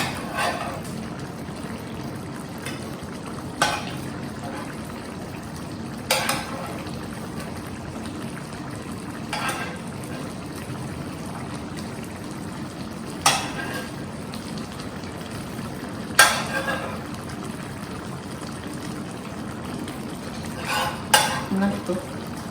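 Fried paneer drops into a rustic aloo paneer sabzi and is stirred in the pan: a soft, low sizzle carries on beneath sharp spoon clinks and knocks that come every few seconds, a few louder near the end.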